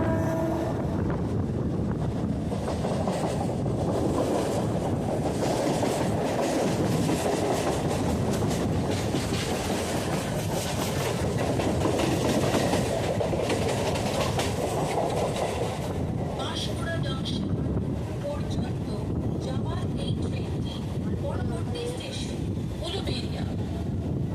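A Howrah–Panskura local train runs at speed with a loud, unbroken rumble and rattle of wagons, wind rushing throughout, heard from on board.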